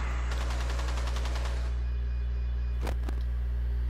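A quick rattling string of gunshots from a Rainbow Six Siege teammate firing at a camera, followed by a pause and two sharp louder shots, over a steady low hum.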